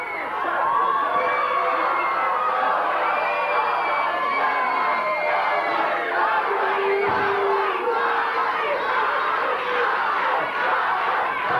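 Wrestling fans at a 1992 USWA event roar and cheer continuously for Jerry Lawler, a dense arena crowd noise with shouts rising through it, loud and sustained throughout.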